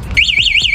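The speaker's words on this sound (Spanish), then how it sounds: "Miren, la moto tiene alarma." The alarm on a Galardi Giulietta 180 motorcycle sounds a loud, close electronic siren that warbles rapidly up and down in a repeating wail, heard alone without talking.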